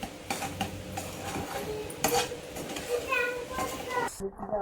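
Mysore Pak mixture of gram flour, ghee and oil being stirred in a pan, with scraping and clinking of a utensil against the vessel in irregular strokes, close and moderately loud, with faint background voices.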